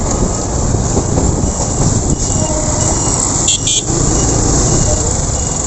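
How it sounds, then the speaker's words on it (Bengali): A train passing near a wide road, producing a loud, steady rumble and roar that fills the whole stretch, with brief clattering and faint squeals. "ট্রেন যেতেছে, দেখছেন? ট্রেন।"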